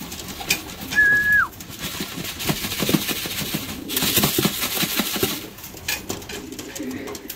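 Young cock pigeons cooing in a loft amid general rustling and bird activity, with a sharp whistle-like call and someone speaking over the sounds.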